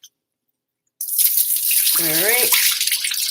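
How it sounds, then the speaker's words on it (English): A kitchen tap suddenly gushes into a sink while chicken is washed for stew, a loud steady hiss of running water heard close, with someone speaking briefly over it. "Sorry if that water is loud."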